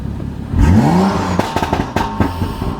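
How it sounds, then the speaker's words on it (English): A BMW F30 idles with a throaty exhaust burble, then a quick rev swoops up and settles into rumbling with sharp crackling pops, loud and close, while stationary. "So that is how the car sounds right now, with it just sitting in place, stationary."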